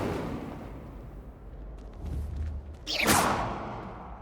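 An Incendio fire spell cast in Hogwarts Legacy gives a sharp whooshing burst of flame with a low thump, rising suddenly after a few quieter moments and then trailing off.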